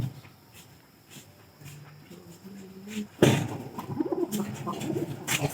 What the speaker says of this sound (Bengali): পায়রা দুইটা ডাকে নাকি